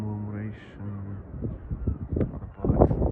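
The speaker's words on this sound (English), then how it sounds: "Yeah, seagulls on the top of it." Seagulls give a few harsh, drawn-out calls at Brighton Palace Pier by the sea, close and clear at first, then fade under low background voices.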